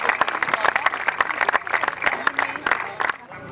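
Spectators clapping for a rally driver at a slalom event in Geneva, sharp uneven handclaps close by with someone talking over them, fading out at the end.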